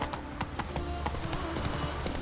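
Roach's hooves in The Witcher 3: Wild Hunt on PS5 pound out a quick, steady galloping rhythm close by, with a faint whinny mixed in and no talking.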